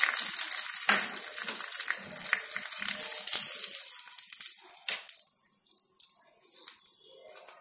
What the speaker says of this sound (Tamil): எண்ணெயில் கடுகு, கருவேப்பிலை மட்டும் தாளித்து இதில் ஆட் பண்ணிடலாம்